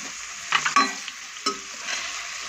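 Onions fry in a pan for an egg kurma and get stirred, with soft sizzling and a few distinct scrapes and clatters of the spoon, no talking.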